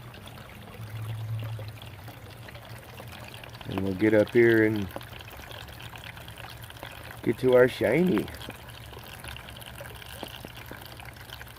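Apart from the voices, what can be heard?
water flowing through a homemade mini sluice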